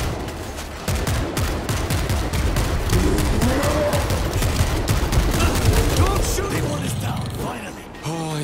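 Rapid gunfire in the zombie shooter game World War Z, dense bursts of shots crackling continuously at close range, with voices calling out amid the shooting.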